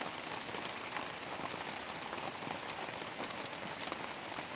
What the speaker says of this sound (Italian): Come potete vedere, ragazzi, piove davvero.